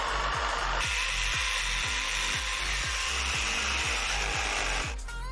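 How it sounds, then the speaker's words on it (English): A jigsaw cuts a window opening in a portable folding castle, loud and continuous, its blade strokes pulsing rapidly and steadily for about five seconds before stopping abruptly. "Jigsaw time!"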